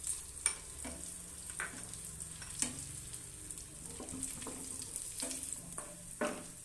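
Dried raisins fry in a pan for Uttar Karnataka parade paisa, giving a steady close sizzle with scattered scraping stirs of a spoon against the pan, and no voices.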